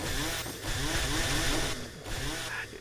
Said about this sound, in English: listening to your chainsaw idling